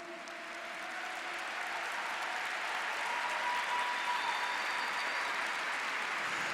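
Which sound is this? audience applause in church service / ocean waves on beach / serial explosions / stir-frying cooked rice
audience applause in church service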